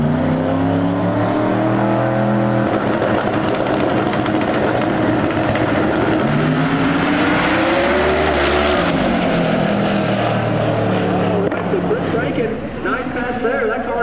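A drag race car idles and revs hard on the starting line at a no-prep drag racing event in Ennis, Texas. Its loud, continuous engine roar rises and falls in pitch throughout, with other voices mixed in.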